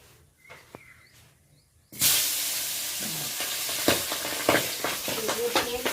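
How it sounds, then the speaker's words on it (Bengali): Tengra fish fries in hot oil in a pan, a loud continuous sizzle that bursts in abruptly after a quiet start, with stirring scrapes and crackles throughout. "সেমভাবে আমি বাকি মাছগুলো ভেজে নেব।"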